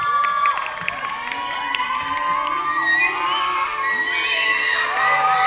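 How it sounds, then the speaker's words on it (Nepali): An audience at a Nepali cultural programme cheers a short play with loud whoops, high shouts and excited voices, while some scattered clapping mixes in throughout. "एकपल्ट बेजोड तालीले स्वागत गरिदिनु होला।"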